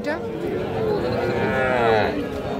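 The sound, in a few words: calf mooing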